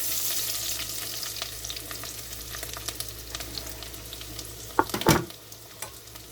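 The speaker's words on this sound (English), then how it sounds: "So now I'm going to go ahead and add our onions." Onions dropped into melted ghee in a pan for butternut squash bisque give off a steady, close sizzle, with a burst of louder crackling and stirring scrapes near the end.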